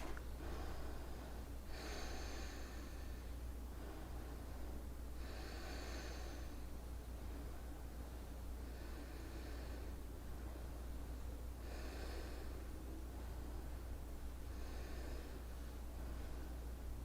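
Slow, deep yoga breaths drawn in and released one after another, roughly every three seconds, soft and close against a faint steady hum, with no talking.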